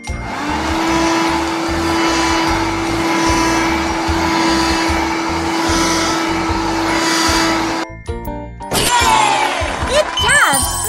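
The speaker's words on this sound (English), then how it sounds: "Vacuum here too." A vacuum cleaner cleans a room with a loud, steady, whining hum for about eight seconds, then cuts off and gives way to bright tinkling chimes.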